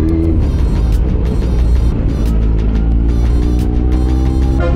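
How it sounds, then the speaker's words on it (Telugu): A Yamaha RX100 motorcycle climbs the Tirumala hill road, its two-stroke engine a steady, loud, close drone with a buzzing whir throughout and no talk. "బైక్ పైన శ్రీవారి కొండ ఎక్కబోతున్నాం."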